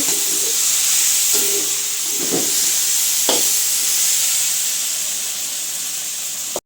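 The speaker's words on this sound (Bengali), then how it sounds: "নুডলস রান্না করা হইতেছে সবজি দিয়ে" Noodles with vegetables cooking in a pan for a village breakfast, giving a steady close steamy hiss and sizzle with a few soft stirring scrapes, no talking.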